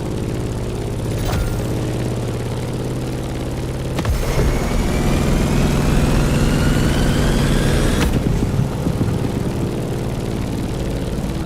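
A propeller airplane in The Crew Motorfest video game drones loud and steady in turbulent flying conditions, its engine note shifting at a couple of sharp transitions.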